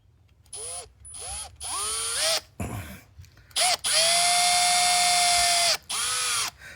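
A Milwaukee 3450-20 sub-compact 1/4-inch hex driver converted to a 1/4-inch drive impact gun runs screws in several bursts: short whirring spins, then a long sustained high whine, followed by one more burst, close and loud, with no talking.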